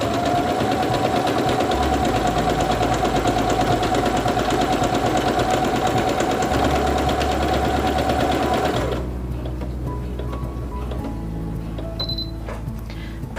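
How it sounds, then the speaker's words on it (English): A SINGER Quantum Stylist 9960 computerized portable sewing machine stitches out a programmed letter sequence with a rapid, even mechanical buzz that runs for about nine seconds, then stops, leaving quieter clicks and handling noise. "Now let's stitch it out."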